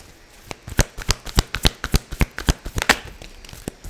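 Tarot cards being shuffled by hand: a quick run of crisp, papery riffling snaps in an irregular rhythm, close and fairly loud, with no voices.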